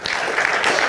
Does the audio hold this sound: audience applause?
yes